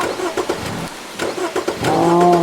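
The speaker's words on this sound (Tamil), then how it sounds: "காரு ஸ்டார்ட் ஆக மாட்டேங்குது சீக்கிரமா காரை எடுறா" A car engine cranks repeatedly without catching, a series of uneven churning pulses, then a rising, strained whine, loud and close.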